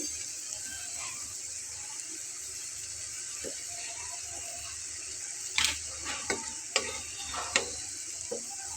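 Egg jali kebabs coated in egg and cornflour sizzle softly in a pan, then a few louder crackles and utensil clicks pop up in the second half.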